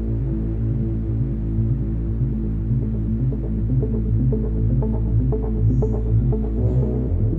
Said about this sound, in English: Got the dryer on.